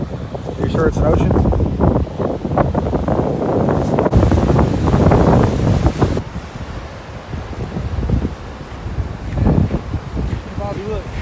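Waves wash onto a lake beach in Illinois, a steady broadband rush of surf mixed with heavy wind buffeting the microphone, with voices talking underneath throughout.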